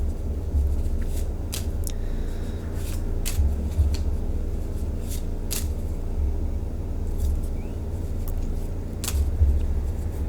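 Tarot cards are shuffled in short riffling bursts and soft card snaps, scattered and fairly faint over a steady low background hum.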